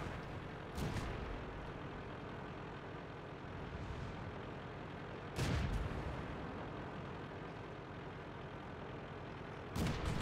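Tank cannon fire in the World of Tanks game, three heavy booming shots spaced several seconds apart over a steady low rumble of engines and battlefield noise, with no talking.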